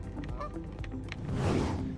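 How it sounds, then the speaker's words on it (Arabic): A flock of geese honks repeatedly in overlapping bursts, the calls moderately close and growing into a louder, busier chorus toward the end. "بالمناسبة هنا يوجد قطيع من الإيوز"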